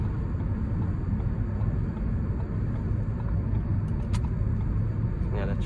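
A Ford Courier engine runs with a steady, close, low rumble while driving, with no clear change marking the gear shift.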